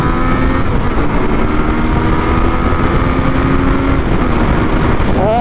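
A 2015 Yamaha MT-09 motorcycle engine pulls steadily in second gear at about 3000 rpm, a loud, continuous close-up drone with wind rush and no speech.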